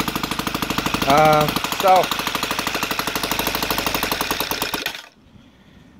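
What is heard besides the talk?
OS FT 300 two-cylinder model engine running, converted to gasoline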